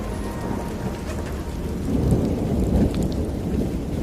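Steady heavy rain patters on surfaces while thunder rolls low and grows briefly louder midway, with no voices.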